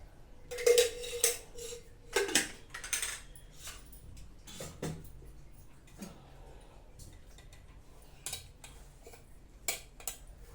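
Mustard seeds popping in hot oil in a pan, a scatter of sharp irregular crackles and pops, louder in bursts early on, then sparser ticks alone.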